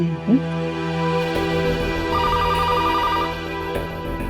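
A telephone rings with a short, evenly pulsed electronic trill over a steady background hum, fairly faint.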